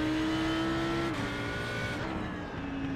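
A race car engine at Zandvoort in the iRacing sim holds a loud, steady whine that drops in pitch partway through as it shifts, then climbs again, with no talk.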